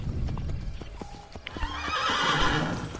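A horse in the video game Assassin's Creed Brotherhood: a few hollow clip-clopping hoof steps, then a loud, close whinnying neigh rising over ambient game noise.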